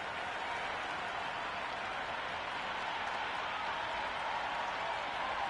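A steady, even roar of crowd applause and cheering fills a cricket stadium at the Sydney Sixers vs Melbourne Stars match, sustained throughout with no breaks.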